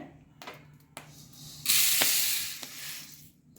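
Wheat grains dry-roast in a pan for thalipeeth flour, with scattered dry clicks and rattles of stirring that swell into a loud rushing hiss of grains tossed across the pan, then ease off.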